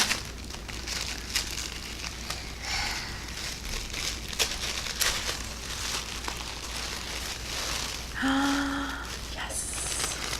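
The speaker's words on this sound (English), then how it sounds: "And the other one in here, all wrapped up in pretty pink tissue paper." Close, crisp crumpling and crinkling of pink tissue paper as a potted house plant is unwrapped, in irregular bursts of rustling with a few louder crackles and a short squeak near the end.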